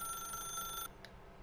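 A telephone rings in The Stanley Parable: Ultra Deluxe, a faint electronic bell tone held for under a second before cutting off abruptly into near silence, followed by a brief soft blip.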